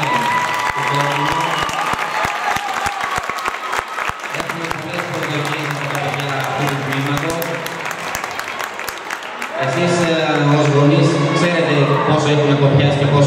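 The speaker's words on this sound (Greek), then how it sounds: "Ενισχύστε τους με ένα χειροκρότημα." An audience claps for a children's competitive team at a sports club's first official presentation. Steady, dense applause runs throughout over loud sustained music, which swells higher in the last few seconds.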